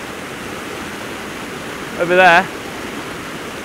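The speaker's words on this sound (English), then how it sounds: "I'm in the middle of the river at the moment, as you can probably hear" Broadband rushing water from a mountain river, heard from a spot in the middle of the stream, steady and loud throughout with a brief voice cutting in partway.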